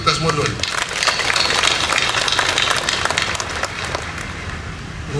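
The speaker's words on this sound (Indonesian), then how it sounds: "Tepuk tangan buat kita semua dulu." Civil servants at a provincial government morning assembly break into applause: a dense, steady wash of many hands clapping outdoors, with a voice briefly at the start.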